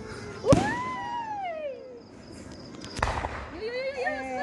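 Two sharp firework bangs a few seconds apart near a bonfire, each followed by whistling, crackling trails, with people talking nearby.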